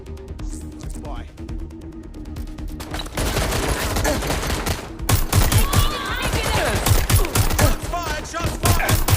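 Rapid bursts of gunfire ring out in the video game Watch Dogs: Legion, streamed through cloud gaming on Android. After a quieter stretch they grow into loud, dense volleys, with in-game voices around them.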